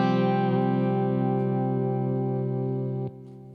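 Electric guitar played through a boost and compressor pedal, a single sustained chord ringing out bright and full with a slight chorus-like shimmer, decaying slowly before being cut off near the end.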